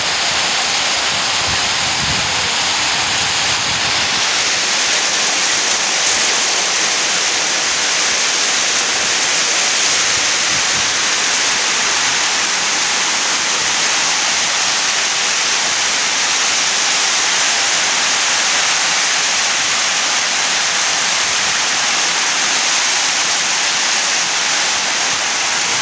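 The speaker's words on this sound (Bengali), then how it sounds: "খুব বৃষ্টি হচ্ছে আমাদের এদিকে আসছে" Steady, dense downpour of heavy rain with strong wind as a cyclone approaches, roaring without a break, a broad wash of noise, loud and close throughout.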